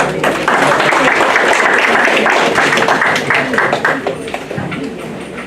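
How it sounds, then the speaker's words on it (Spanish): Audience applause welcoming a speaker at a court legal seminar in Callao, Peru, loud close clapping that holds steady and then thins out toward the end. "Lo recibimos con un fuerte aplauso."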